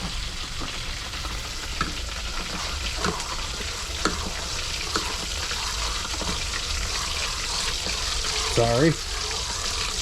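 Freshly caught fish fry in hot oil while being stirred, giving a steady close sizzle with light scraping and clinks from the stirring and a watery gurgle. A voice speaks briefly over it.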